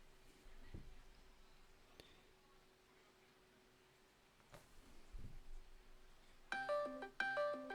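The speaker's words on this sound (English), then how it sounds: "It made sounds on my phone because Discord was open." A Discord notification chime rings from a phone, two bright electronic tones arriving in quick succession near the end, after a quiet stretch of faint rustling and handling noise.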